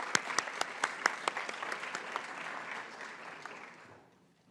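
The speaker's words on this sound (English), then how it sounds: "we recognize them with a big applause" A crowd at a legal profession awards event claps together, brisk and fairly loud at first, then the applause thins and fades away to quiet.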